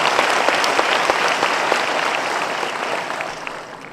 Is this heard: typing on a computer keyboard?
no